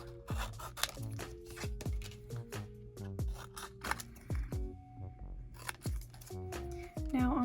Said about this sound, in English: I'm just gonna cut these straight on the black line